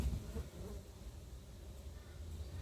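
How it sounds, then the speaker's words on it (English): A soft, continuous buzzing of many native bees drifts around the hive entrance, faint and steady, with no voices. "Okay, so there's bees in the entrance."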